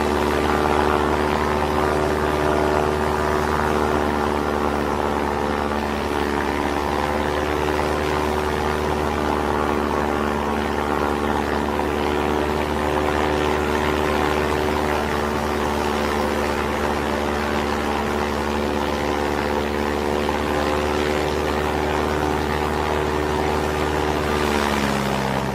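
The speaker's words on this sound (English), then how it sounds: "This plane takes off with a catapult." A propeller plane launched by catapult drones steadily at close range, a loud continuous engine tone that holds level throughout and shifts slightly near the end.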